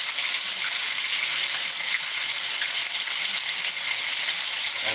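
Chicken lo mein fries in a 14-inch Lodge wok, giving a continuous, even sizzle with light scraping and clinks from stirring, close and steady without speech.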